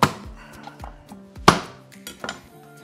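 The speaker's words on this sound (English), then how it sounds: "Let's break our garlic up." Hardneck garlic head being broken apart by hand in a kitchen, giving a few sharp papery cracks and clinks, with one loud snap in the middle and softer knocks around it, close up and with no talking.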